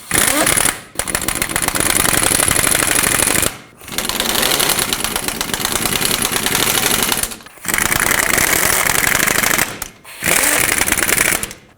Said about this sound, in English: Now let's put the 4 mounting nuts on. And let's tighten them up.